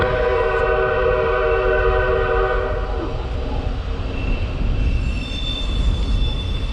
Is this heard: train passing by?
yes